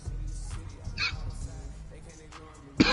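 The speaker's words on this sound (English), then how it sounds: "Hey, can y'all hear that dog in the background? Is that barking?" A dog outside an open window barks and whimpers in the background, faint and distant, with a couple of brief yips over a low indoor hum and some quiet talk.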